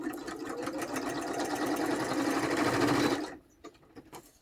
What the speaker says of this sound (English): Okay, so we're going to do our straight stitch around it.